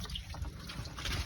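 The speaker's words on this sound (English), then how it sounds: "so we'll drain the antifreeze" Antifreeze draining from a 2009 Nissan Altima 2.5L engine during an oil cooler gasket job, a faint steady trickle and splash of liquid with no talking.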